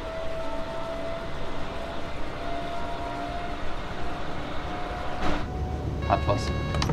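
Electric BR 423 S-Bahn multiple unit of Munich's S-Bahn running on the Munich–Augsburg line in Train Sim World 2, with a steady rolling rumble and hum throughout and a few brief clicks and tones near the end.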